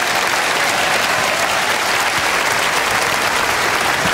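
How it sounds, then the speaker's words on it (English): Continuous dense clapping from a comedy festival debate audience, loud and even from start to finish with no voices standing out. "Keep the clapping."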